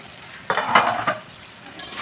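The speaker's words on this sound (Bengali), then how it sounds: "ঢাকাটা খুলে একবার দেখে নিচ্ছি" A pot lid lifted off okra cooking slowly over low heat, giving a few close metallic clinks and scrapes followed by soft sizzling from the pan.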